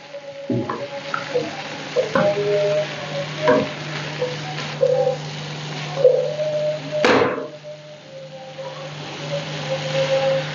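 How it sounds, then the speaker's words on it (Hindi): Carrots and capsicum stir-fry in a pan with a steady sizzle, broken by repeated scrapes and clinks of a spatula stirring the vegetables. "अब जो है इसे अच्छी तरीके से मैं इसकी भुनाई कर लूँ"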